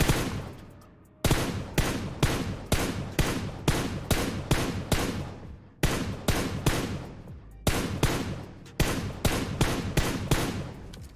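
Gunfire from a DP machine gun in the mobile game PUBG Mobile: loud, sharp shots fired in quick, evenly spaced bursts, each crack decaying briefly, with short pauses between groups over about eleven seconds.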